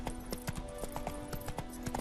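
Roach, the horse from The Witcher 3, clip-clopping at a quick, regular trot, hoofbeats fairly close over a low steady hum and faint background tones.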